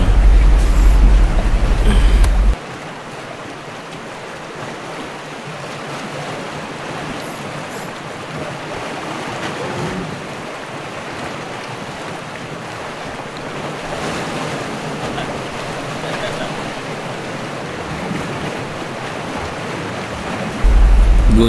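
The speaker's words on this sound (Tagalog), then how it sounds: "Isa pala sa nakaganda guys pagka nasa isla ay yung tunog ng alon" Ocean waves wash steadily onto an island shore in a continuous broadband surf roar, with wind buffeting the microphone, a louder gust-like burst at the very start and end.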